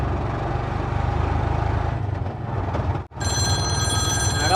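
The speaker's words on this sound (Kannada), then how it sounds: "ಫೋನ್ ಬರಾಕತ್ತಲ್ಲ." An incoming phone starts ringing with a bright, high, repeating ringtone that cuts in over a steady low rumble of a nearby vehicle, moderately loud and close.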